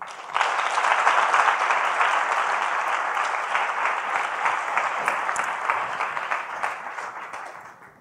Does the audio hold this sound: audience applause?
yes